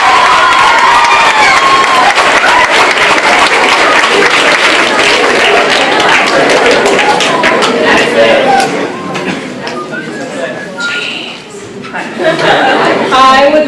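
A large audience applauds loudly after a speech, with sustained clapping mixed with cheers, chatter and some laughter, while a voice talks over the crowd.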